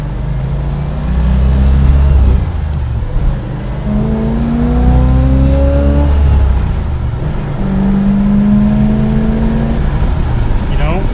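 A 1980 Chevrolet Camaro Z28 V8 revs up hard through the gears from inside the cabin, loud rising engine roar with shifts between pulls, while occupants talk over it.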